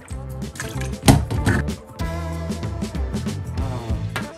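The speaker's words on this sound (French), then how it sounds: "c'est sous l'eau qu'il fallait les rincer. Genre au robinet" Homemade bouncy ball rinsed under a running kitchen tap, water splashing and gurgling irregularly with bursts and drips, set against a steady tonal background.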